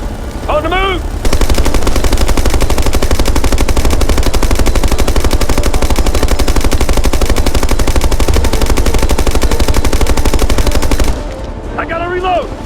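Sustained automatic gunfire from the Ghost Recon: Future Soldier video game, loud and continuous for about ten seconds, with brief shouted voices at the start and end.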